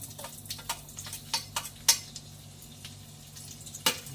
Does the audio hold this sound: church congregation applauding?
no